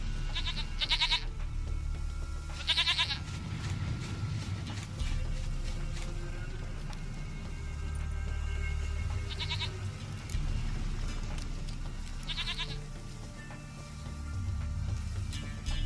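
Goats bleat in The Witcher 3, several short nasal bleats spaced apart over a steady low game ambience with faint mechanical clicks, no talk.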